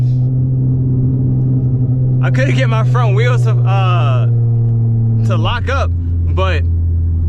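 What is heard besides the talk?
catless flame-tuned V6 Charger exhaust burbles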